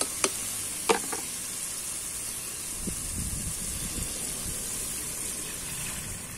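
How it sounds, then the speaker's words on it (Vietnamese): Tomatoes sizzle in a pan over a wood-fired stove, a steady soft hiss broken by a few sharp clacks of the spatula early on and some low scraping stirs later, with no talking. "Xào cà chua lên."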